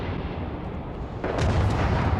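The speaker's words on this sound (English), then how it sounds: "Something, there's explosions." Explosions go off in the space game Starfield near the New Atlantis spaceport: a steady low rumble that swells into louder, denser booming partway through, with no talk over it.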